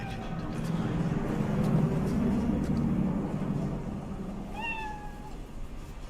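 A cat gives a single short meow in Cyberpunk 2077, rising out of a low, steady ambient rumble toward the end.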